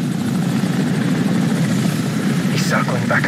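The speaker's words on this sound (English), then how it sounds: "Enemy helicopter, get down." A helicopter in Call of Duty 4: Modern Warfare drones loudly and steadily with thumping rotor noise, while brief high chirps cut in near the end.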